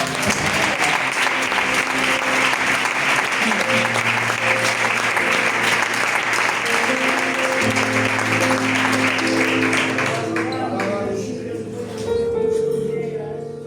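A church congregation claps loudly and steadily for the Lord during a Spanish-language worship service, sustained applause with music or singing running beneath it before it fades out near the end.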